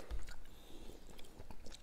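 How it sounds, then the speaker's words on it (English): Springy Asian instant noodles are chewed up close, a few soft, wet, squishy bites in quick succession, faint and without talk. "The noodles are so springy, I feel like I'm chewing on some trampoline right now."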